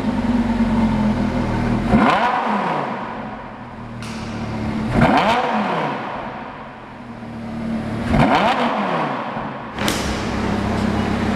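A Lamborghini Gallardo revs hard three times in a row, each loud, close exhaust blare climbing and then falling back to a rumbling idle between bursts.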